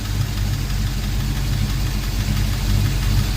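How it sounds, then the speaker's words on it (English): A V8 Chevy engine idles with its RPM raised after an ignition timing adjustment, a loud, close, steady low rumble with an even pulsing throb and no talking. "See, you can already hear the RPM went up."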